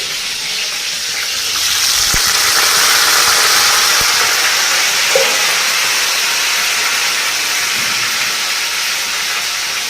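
Green chilli pieces and curry leaves sizzling loudly in hot oil for egg pulusu, a dense steady hiss throughout with a slight rise after the first couple of seconds and a few faint stirring knocks.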